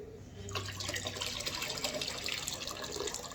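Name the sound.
tap water rinsing okra in a sink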